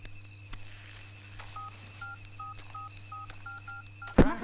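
A series of short electronic keypad beeps, about ten evenly paced presses, faint over a steady low hum, ending in a brief clunk.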